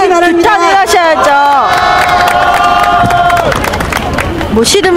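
A large rally crowd at a Korean general strike protest cheers and shouts loudly, voices rising in sustained whoops and calls over a dense roar of applause and chatter.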